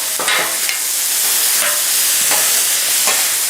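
Steak and vegetables for pepper steak sizzle loudly on a hot Blackstone griddle, a dense and continuous hiss close up, broken by a few scraping strokes.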